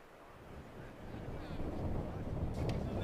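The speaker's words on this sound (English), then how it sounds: "See how windy it is up the top there." Wind gusts at the top of a ski slope at a para alpine skiing World Cup race in Zagreb, a low rushing roar buffeting the microphone and growing stronger, with no speech in it.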